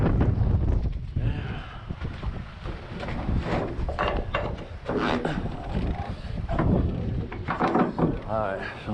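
Strong wind in North Dakota buffets and roars steadily around a truck worksite, with heavy microphone rumble and gusts throughout, and occasional clanks and someone speaking within it.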